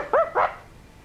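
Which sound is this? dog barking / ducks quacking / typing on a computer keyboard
dog barking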